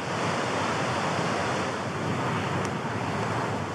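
Wind roars steadily and loudly across a winter mountain top at Dollywaggon Pike, a constant buffeting rush with no breaks and no voices.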